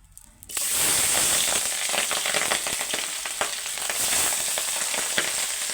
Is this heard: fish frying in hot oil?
yes